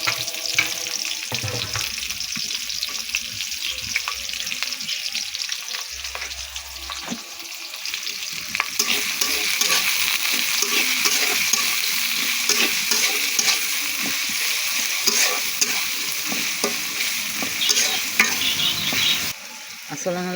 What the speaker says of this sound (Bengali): এই যে পেঁয়াজ মরিচ নাড়াচাড়া করছি, মশলা কষানো, আদা বাটা